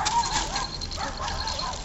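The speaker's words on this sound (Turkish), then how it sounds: "Küçük köpekler geliyor." Small dogs barking and yipping close by in a quick, continuous flurry of high-pitched yaps with no one speaking.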